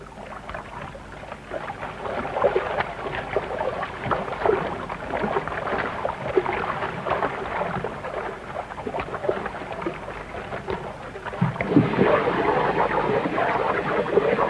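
A boat moves on open water in a 1942 wartime setting, a continuous churning wash and rumble at moderate loudness that surges heavier near the end, with no voices.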